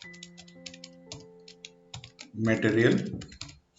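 Computer keyboard typing in quick, light clicks, with scattered keystrokes through the clip, under a speaking voice and steady tones in the background.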